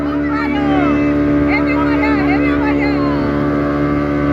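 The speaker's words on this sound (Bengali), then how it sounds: "স্পিড বোট চলছে সমুদ্রের ধারে।" A speedboat runs along the sea shore at Digha, giving a loud, steady engine drone that lasts throughout, with people talking faintly underneath.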